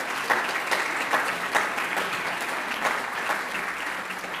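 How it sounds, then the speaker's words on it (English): A room full of people applauds steadily, a dense, even wash of clapping with a few louder claps standing out. "Ambassador Marschik is clapping"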